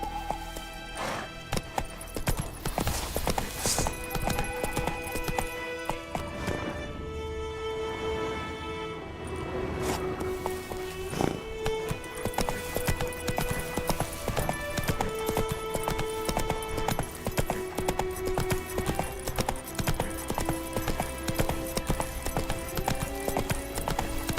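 Horse hooves clip-clop at a steady gallop in The Witcher 3, the rhythmic beats running continuously and fairly loud over layered game music, with an occasional whinny.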